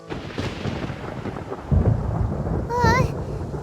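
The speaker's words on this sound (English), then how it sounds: "Paimon hears thunder!" Thunder rolls through a Genshin Impact storm, a deep rumble building under rain, with a brief tonal chirp near the end.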